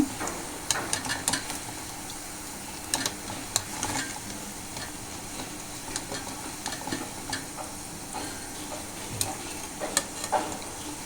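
Soya chunk pakodi frying in hot oil, a steady low crackle and sizzle with scattered sharp pops and occasional spoon stirs, close and moderately loud with no voices.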